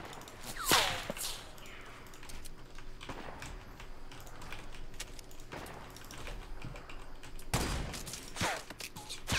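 Bursts of gunfire from a Fortnite Battle Royale match, with sharp loud shots near the start and again toward the end, lighter scattered shots in between, and no talk.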